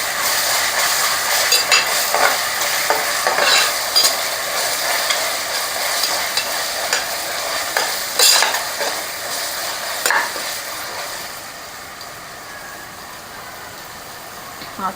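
Ginger garlic paste fries in a pan while being stirred for a vegetable soya pulao, a steady close sizzle with scraping strokes and occasional spoon taps, easing slightly toward the end.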